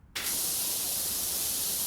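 White paint sprays steadily from a can, starting abruptly with a sharp burst and then holding a continuous, fairly loud hiss with no talking.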